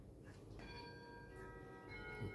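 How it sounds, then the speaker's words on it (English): Westminster chime rung by a clock in the background of a room holding a French Vedette dual-chime clock from 1925, with clear, sustained bell tones that build in sequence and ring on, moderately distant, with no talking. "So that's another clock at the background, being the Westminster chime."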